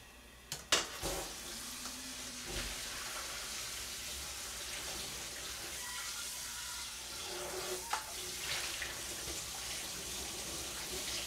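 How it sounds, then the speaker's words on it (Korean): Cold water runs over blanched spinach in a home kitchen while it is rinsed, a steady splashing stream with a couple of sharp knocks near the start. "이제 이거 찬물에 좀 헹궈줍니다."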